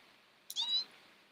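A pet cat gives a single short, clear meow, fairly close and alone, in a quiet room.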